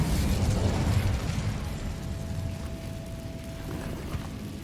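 An Incendio fire spell cast in the video game Hogwarts Legacy gives a loud, sustained whooshing burst of flame with a steady roar, set against dense game sound.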